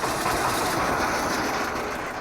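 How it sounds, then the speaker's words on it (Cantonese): A fishing boat motor runs steadily on a river, a dense continuous engine drone with broad rumble and hiss, close and unbroken throughout. "漁船嘅馬達聲再次響起"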